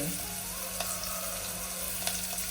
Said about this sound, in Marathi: फोडणी छान तडतडते